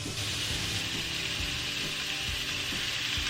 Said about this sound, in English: Into that mix, I'm just going to put either 2 teaspoons of crushed garlic or 2 garlic cloves